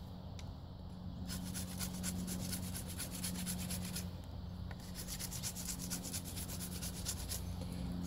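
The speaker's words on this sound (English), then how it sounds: "Just gonna take the bark off the Mulefat real quick" Bark is stripped by hand from a mulefat stick, producing soft, quiet repeated rubbing and scraping strokes in quick rhythmic bursts, close up and alone.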